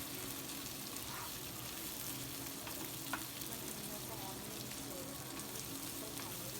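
Chopped tomatoes hit hot oil in a home kitchen pan, giving a steady, close sizzle and frying hiss that carries on without a break, with faint stirring scrapes now and then.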